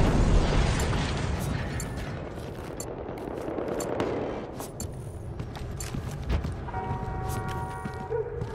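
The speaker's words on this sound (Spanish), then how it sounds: "¡Lanzando granada!" Grenade blast in Battlefield Hardline online multiplayer on a lower-district map, a loud boom at the start followed by scattered gunfire pops and bursts throughout, no talk.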